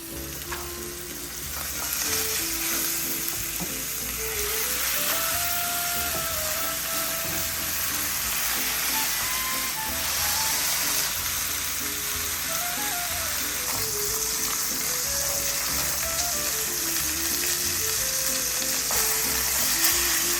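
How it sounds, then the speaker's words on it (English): Short ribs searing in hot oil in a Dutch oven, a loud continuous sizzle and crackle that holds steady, with soft background music playing underneath. "we're going to get these seared on each side until they're nice and brown."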